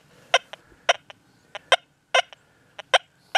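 A Deus 2 metal detector on its sensitive program gives soft, short peck tones over a non-ferrous target. About a dozen quick, clean beeps come in an irregular rhythm over a quiet background.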